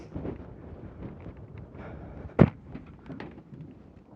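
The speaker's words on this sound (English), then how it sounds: "we don't ever see wind like this unless there's a tornado coming" Strong wind buffeting outdoors in sandy terrain, a steady rumbling roar with one sharp gust-like thump midway, close and moderately loud with no talk.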